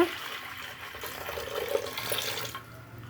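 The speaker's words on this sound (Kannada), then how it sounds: "ಒಂದು ಸ್ವಲ್ಪ ನೀರು ಹಾಕ್ಕೊಬೇಕು" Water splashes and gurgles steadily as it is poured into a pressure cooker for about two seconds, then stops.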